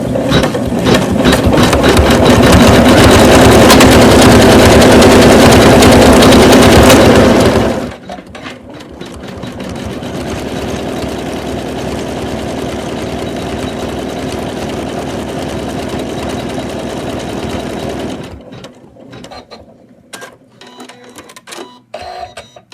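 A home embroidery machine stitches an in-the-hoop Santa doll, a loud, fast, steady mechanical whir and clatter that runs on, drops to a softer buzzing stretch, then stops near the end. No voices.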